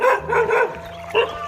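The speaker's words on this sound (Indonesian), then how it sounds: "kalau kita ada anjing yang menggonggong ini, jangan lari teman-teman ya" A dog barks a few times nearby in a village, a quick pair of barks followed by a single louder bark after a brief pause.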